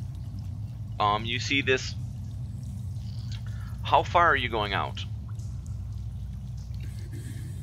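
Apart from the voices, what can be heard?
rushing water sound effect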